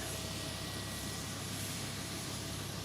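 Aircraft engine drone during a low flight over the remote Pacific island of Nikumaroro, a loud, steady, continuous roar with no voices.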